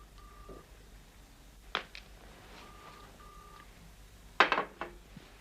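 A telephone is dialed for a call, with steady short tones and faint clicks and clatter in a quiet room, ending in a louder handset rattle.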